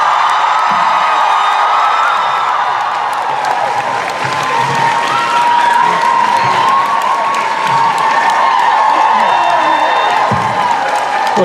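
A large convention crowd in Vancouver cheers, screams and applauds for Jensen Ackles at Salute to Supernatural, a loud sustained roar with high-pitched shrieks and whoops throughout.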